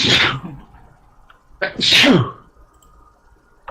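A single sharp sneeze, close and loud, followed by a second sneeze-like burst a moment later, with quiet room tone between.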